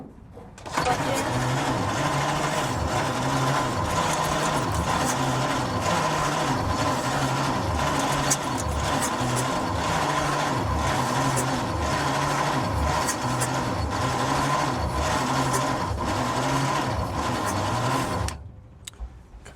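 A 1953 White WC truck engine cranks over for the first time in more than 30 years, a loud, close, rhythmic chugging of the starter turning the engine that runs steadily for about eighteen seconds and then stops abruptly.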